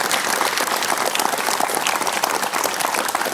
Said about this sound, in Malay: Kita beri tepukan kepada Datuk Zaini Hassan.